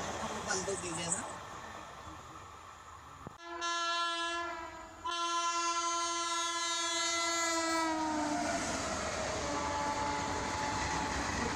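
An Indian blue passenger train on the New Delhi–Mathura route sounds a long, loud two-tone horn, then rumbles and clatters past close by. A person talks over the passing train.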